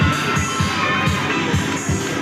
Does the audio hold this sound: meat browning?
no